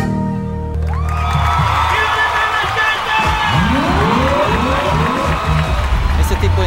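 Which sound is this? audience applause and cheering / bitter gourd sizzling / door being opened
audience applause and cheering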